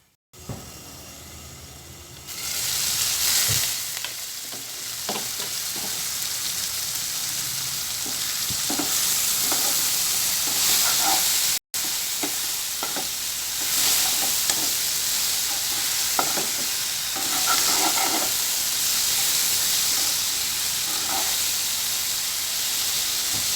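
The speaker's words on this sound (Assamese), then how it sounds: "এইখিনি মই কেৰাহীতে ভাজি মিহি কৰি ল'ম।" Chopped tomatoes fry and get stirred in a kadai for a pork and mushroom dish, giving a steady close sizzle broken by repeated scraping stirs, with no voices.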